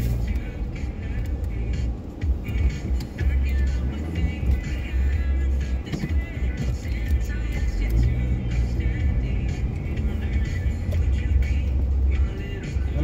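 A car driving on a potholed US city street, heard from inside as a steady low road rumble and engine drone throughout, with small bumps and jolts, fairly loud and continuous.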